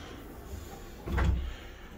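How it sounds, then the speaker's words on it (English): A cabin door on the MSC Virtuosa cruise ship swings open into a balcony stateroom. It makes a single short, muffled thud and rustle against a quiet room hum. "as we come in the door"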